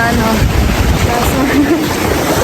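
Strong ocean waves pound a brown-sand beach in Cavite City, a loud, unbroken roar of surf mixed with wind noise on the microphone.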